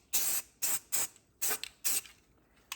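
Rust-Oleum primer sprays from an aerosol can onto bare metal in six short, sharp hissing bursts, each about a quarter to half second long, close and loud with brief silences between.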